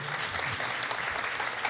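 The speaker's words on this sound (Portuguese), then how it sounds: "Palmas para o Rony, pessoal." A crowd applauds steadily, a dense wash of clapping hands with no voices standing out, holding at an even level throughout.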